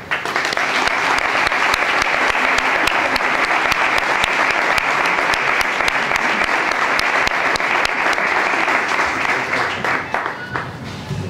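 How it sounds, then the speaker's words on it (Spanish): Sustained applause from a large audience at a cultural lecture held by a Rocío brotherhood, dense and steady for about ten seconds before fading out. "Un aplauso."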